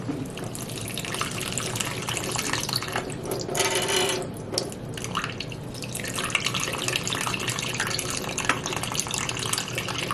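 Water poured into a wilted, thirsty houseplant in a light pot, a steady trickle and splash running for about ten seconds with a brief louder gush midway and no voices.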